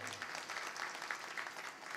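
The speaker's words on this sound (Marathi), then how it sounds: "या सगळ्या भजनी मंडळासाठी एकदा आपण टाळी वाजवूयात." A distant audience at a kirtan in Shirdi claps for the bhajan groups, faint dense applause continuing steadily for a couple of seconds.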